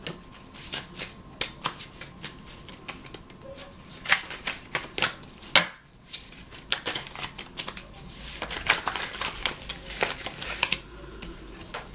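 Playing cards are handled, shuffled and dealt close up and quietly. Crisp flicks, snaps and riffles come in irregular bursts, with a few sharper slaps as cards land and no voices.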